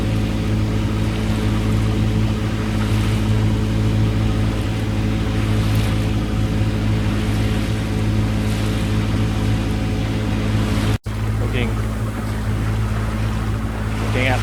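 A motorboat drives out of a lagoon channel past the fringing reef at Lady Musgrave, its engine droning loud and steady throughout with wind and water rushing over it.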